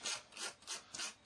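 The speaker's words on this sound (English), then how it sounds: "Okay, so we're just going to sand the bottom as well." Plastic part from a Trumpeter 1/32 Corsair model rubbed with a sanding stick, four quick rasping back-and-forth strokes close up with no talking.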